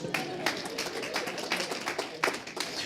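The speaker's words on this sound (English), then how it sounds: "I think that's worth a round of applause as well." Scattered audience applause at a lecture on reporting the Northern Ireland peace process, a few loud clustered bursts of clapping over a steady hall murmur.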